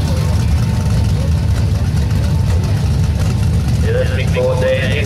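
Loud, steady idle of a 265 Hemi six-cylinder drag racing car at a drag strip, a rumbling low-end throb that holds unbroken, with voices faintly heard over it near the end.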